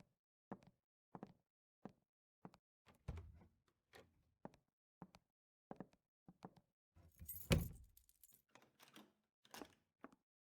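A door locked with keys in a quiet building, with a series of sharp metallic clicks and jangles spaced at irregular intervals, then a louder clunk and rattle of the bolt, close and otherwise silent.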